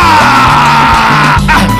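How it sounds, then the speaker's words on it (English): Loud church congregation yelling and whooping together at a thanksgiving service, a dense continuous roar of voices over steady music with sustained tones. "So somebody scream!"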